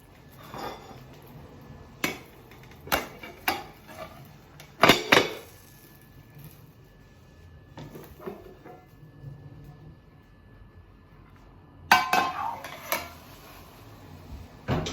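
A frying pan clanks and knocks during the flipping of a Spanish omelette, with scattered sharp metallic hits and a couple of louder bangs between quieter gaps, and no voices.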